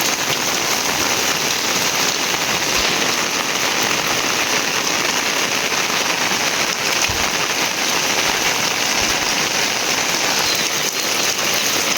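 Heavy rain pours down on a foggy village with traditional houses, a dense, loud, unbroken hiss drumming on surfaces from start to finish.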